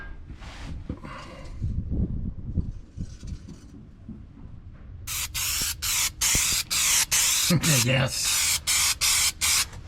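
Undercoating sprayed from an aerosol can onto the underside of an old truck with decades of built-up grime: after some handling noise and a brief word, a run of loud, close hissing bursts with short gaps between them.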